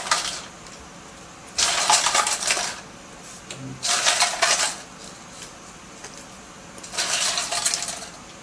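Ice tipped into a water bath holding cooked potatoes: three separate bursts of bright clattering and rattling cubes, close and fairly loud, with quiet pauses between them.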